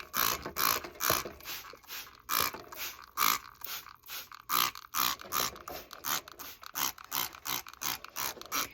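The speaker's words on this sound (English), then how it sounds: "This is a workout too, doing this little sprayer." A small hand-pump sprayer is worked repeatedly near the microphone, giving a quick regular series of squeaky mechanical clicks and swishes, roughly two strokes per second.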